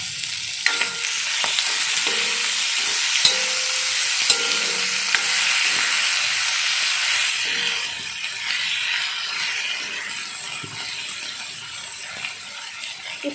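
A single chopped tomato fries with a steady sizzle in an iron pan while a spoon stirs it, scraping and clinking against the metal in irregular taps throughout, close and fairly loud.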